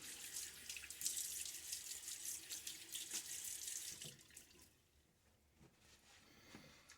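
Water running from a bathroom tap before a wet shave, a steady faint hiss and splash that eases off partway through, close by with no talking.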